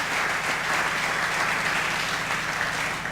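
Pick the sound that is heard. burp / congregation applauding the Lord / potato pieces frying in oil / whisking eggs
congregation applauding the Lord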